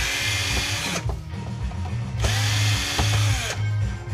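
A power drill driving screws out of a computer power supply runs in close, loud bursts, its pitch jumping as the trigger is eased and squeezed again about three times over four seconds, with no talking.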